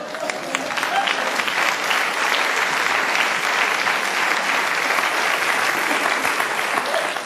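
An audience bursts into loud, sustained applause that fills the whole stretch at an even level, a dense wash of many hands clapping with faint crowd murmur beneath.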